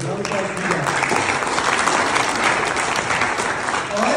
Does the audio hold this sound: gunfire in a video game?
no